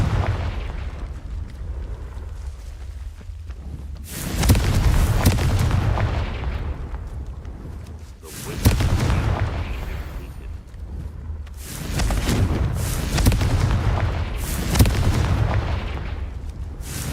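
Repeated heavy blasts from the Confringo fire spell in Hogwarts Legacy, several loud booming bursts around four-second intervals with rumbling decay between them, no talking.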